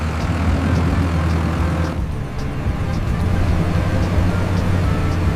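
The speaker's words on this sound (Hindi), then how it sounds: "प्यारे बच्चों देखो पावर ट्रैक ट्रैक्टर।" A Powertrac tractor engine drones loudly and continuously, a steady heavy mechanical roar with a brief dip midway before resuming.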